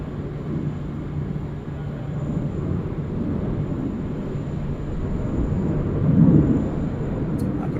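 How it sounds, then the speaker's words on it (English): An Air China Boeing 777 bound for Beijing starts its takeoff roll on runway 34 left at Sydney Airport at night, a steady broad jet roar that swells briefly, heard from a distance with faint voices underneath. "I got Air China 777 about ready to roll now"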